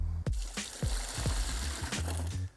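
Water splashes and glugs as it is poured into a bucket, with several sloshing surges and hollow knocks, close and fairly quiet.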